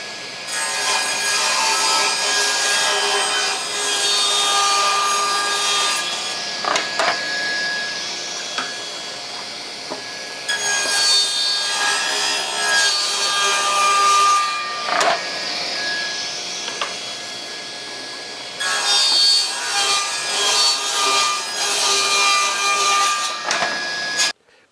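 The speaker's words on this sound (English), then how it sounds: "While I'm at the table saw, I might as well cut this into strips too." A table saw rips wood into strips. Three long, loud cutting passes are separated by short pauses, and each pass begins and ends with a brief rise in the saw's whine.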